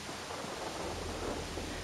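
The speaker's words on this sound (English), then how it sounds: "They've had this thunder and lightning outside as well" Deep rumbling thunder from a storm outside in The Last of Us Part 2, a steady low roll with rain-like hiss throughout, swelling slightly midway, with no voices.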